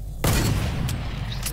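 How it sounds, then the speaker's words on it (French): Gunshots are fired into the air in the Fortnite video game: one loud boom followed by two fainter, sharp reports spread over a second and a half, close and dry. "Tire en l'air pour voir."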